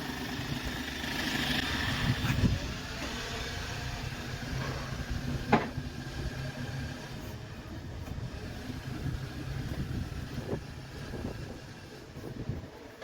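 Boom of a used Donghae 950 aerial bucket truck, rated to 10 meters, being raised by wireless remote: a steady low engine and hydraulic drone held throughout at moderate level, with a few faint clanks.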